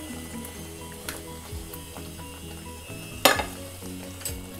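Paneer cubes stirred into cooked spinach saag in a pan, giving a steady low sizzle with soft scraping, plus one sharp clatter of the spoon against the pan partway through.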